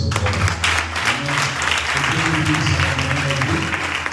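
A church congregation claps and cheers together in praise, dense, steady applause filling the room from start to end, loud and close, with some voices mixed into the crowd noise.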